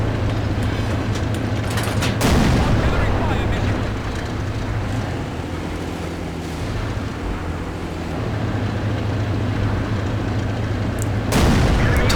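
A Comet tank's main gun fires in a tank battle game, with heavy booming shots, one near the start and another near the end, over a constant low engine drone and rumble.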